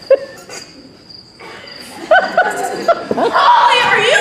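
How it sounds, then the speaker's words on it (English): Steady, faint cricket chirping fills a quiet pause, then gives way to voices and chuckling sounds that grow louder toward the end. "Crickets."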